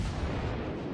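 A single heavy boom from the battleship Alabama's main guns in World of Warships, a dense low rumble sustained through the short clip with no speech.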